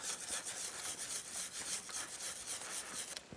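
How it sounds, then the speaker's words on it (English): Wire brush scrubbing dirt and grime off the chain of a Kawasaki KLX 110 dirt bike, quick rhythmic back-and-forth rasping strokes, close and steady, with no voices. "next we're just going to use a wire brush just to clean off some of the outside dirt and grime."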